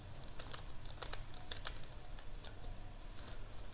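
Rapid, irregular keystrokes on a computer keyboard as Arduino blink code is typed, close and clear over a low steady hum, with no talking.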